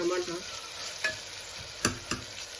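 Chopped tomatoes soften in a hot pan for a ridge gourd and chana dal curry, giving a faint, steady sizzle with a few soft stirring scrapes and clinks. No one talks.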